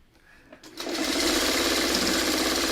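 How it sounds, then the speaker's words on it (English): A sewing machine stitches a row of quilt pieces together, starting after a brief quiet handling moment and then running in a steady, loud, continuous whir for the rest of the stretch, close by. "You sew them in rows, then you sew them in columns."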